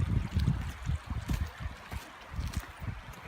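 Water running and gurgling out of an opened farm pond, an uneven low churning flow with irregular surges, fairly quiet and steady, without speech.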